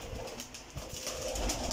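Soft, low cooing of pigeons repeating close by, with a faint rustle in the background and no talking.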